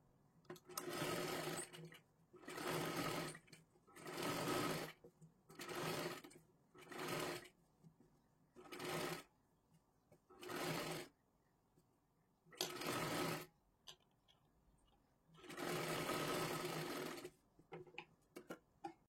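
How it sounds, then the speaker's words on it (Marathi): A sewing machine runs in repeated bursts of stitching, about ten runs separated by short pauses, while sewing the round neckline of a size 32 blouse with four tucks. The sound is close and steady, with no talking. "आता हे गोल आकारात पकडून आपल्याला पूर्ण शिलाई मारून घ्यायची आहे"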